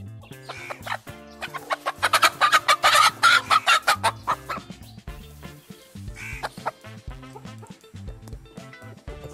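Hens clucking near a coop and cage, a rapid run of loud cackles building in the middle, then softer intermittent clucks and calls trailing off.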